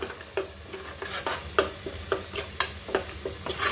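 Turmeric fries in a pan with a soft steady sizzle while a spoon scrapes and stirs in repeated, fairly regular strokes close by.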